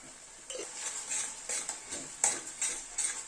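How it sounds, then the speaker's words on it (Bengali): A spoon stirs egg Schezwan curry sauce in a pan, giving soft, close scrapes and taps in an uneven rhythm over a faint background sizzle. "সসগুলো দিয়ে এ সামান্য একটু নাড়াচাড়া করলাম"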